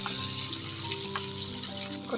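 Chicken fries in hot oil with a loud, continuous close sizzle and spattering crackle, light scraping of stirring now and then, and no talking.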